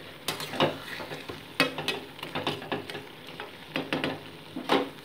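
Lote fish curry with eggplant simmers uncovered over low to medium heat, with a bed of bubbling and sizzle under repeated scraping spoon strokes and metallic clinks against the pan, close and fairly loud.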